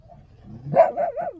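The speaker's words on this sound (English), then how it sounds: "the other dogs are barking" A dog barks from inside a vehicle: a low grumble builds into three quick, close yipping barks with a whiny edge, with no talking.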